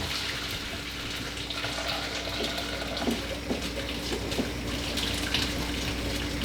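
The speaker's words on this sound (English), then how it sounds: "I am literally just going to pour the water out through that section of the lid." Pasta cooking water pours from a pot through the holes in its lid into a kitchen sink, a steady splashing stream that runs continuously at moderate volume.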